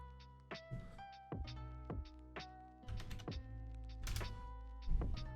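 Computer keyboard keys tapped in short uneven bursts of clicks and thunks, close and fairly quiet, with a steady tonal hum underneath and no talking.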